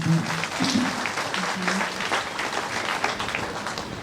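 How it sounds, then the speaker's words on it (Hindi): Clapping from devotees at a Ram Katha gathering at Tara Mandir, Sahibganj, a loud continuous patter of many hands mixed with crowd murmur and voices for about four seconds. "ताली बजाइए जोरदार।"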